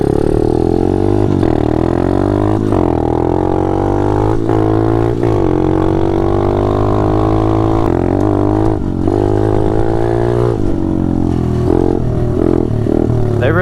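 A pit bike engine runs steadily and loud while being ridden, its drone holding through the whole stretch with a few brief rises and dips in pitch as the throttle shifts.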